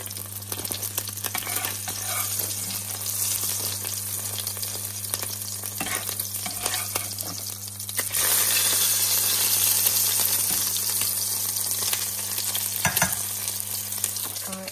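A tortilla warms in a frying pan on a stove, giving a steady close sizzle and faint frying hiss with a low hum beneath, occasional small clicks, and a slightly louder stretch partway through.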